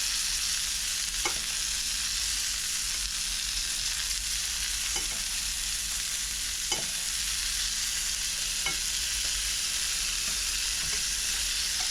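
Duck breast searing in a pan, a steady bright sizzle of rendering fat with occasional soft pops and clicks, close and continuous with no talk.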